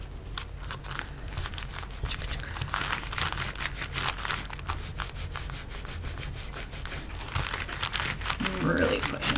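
Paper bags rubbed, crinkled and pressed together by hand for a snowflake craft, a steady close rustling and scraping that runs throughout without pause.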